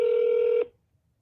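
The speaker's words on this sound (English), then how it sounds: "So I'm calling right now." Telephone dialing tone while calling the Ada County clerk's office: a single loud, steady tone lasting about half a second, then cutting off to near silence.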